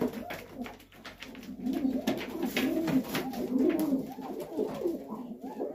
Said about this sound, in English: now this is where we'll definitely have some crazy, crazy birds going